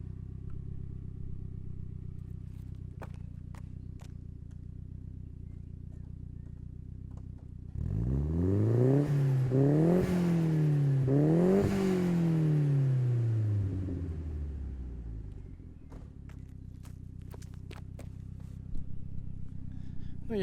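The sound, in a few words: Nissan S13 CA18DET exhaust note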